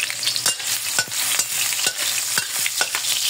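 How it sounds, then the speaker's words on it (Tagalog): Ginger sizzles and fries in hot oil in a pan, with a continuous crackling hiss broken by regular scraping stirs of a utensil, close and fairly loud. "Unahin natin gisa yung ating luya mga idol."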